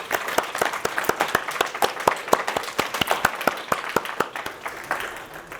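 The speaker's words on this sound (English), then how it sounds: "So now everybody will clap for us" An audience applauds graduates at a recognition ceremony, with steady, moderately loud clapping from many hands continuing throughout.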